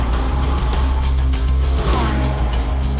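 A Porsche 918 supercar drives hard with its rear end sliding out, a dense, steady engine roar holding close and loud throughout, with a faint tire sound rising briefly midway.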